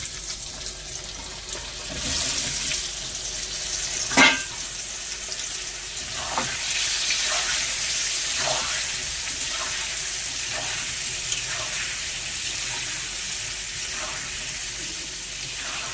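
Raw mango pieces fry in spices, giving a steady hiss and sizzle across the whole stretch, broken by a sharp clatter early on and repeated soft stirring scrapes.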